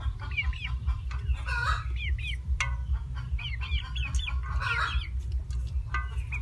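Hungry domestic chickens cluck repeatedly while being fed rice, busy overlapping calls close by over a low background hum, with no talking.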